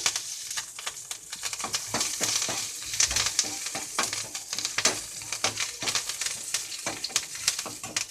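Loud crackling sizzle of curry leaves and onion frying in hot oil for Kerala sambar, with repeated scraping stirs and popping bursts throughout.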